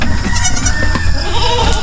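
Goats bleat loudly and close by on a farm where kids have just been born, giving a steady, wavering cry that fills the short moment.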